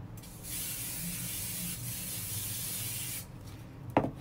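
Hairspray sprayed over styled, tied-back hair, a soft continuous hiss lasting about three seconds at close range, followed by faint handling noises.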